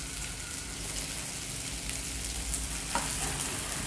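Spicy Andhra-style Guntur chicken fry with coriander leaves being mixed in a pan, a quiet, even frying hiss with faint stirring scrapes and one small clink, close but low in level, no voices.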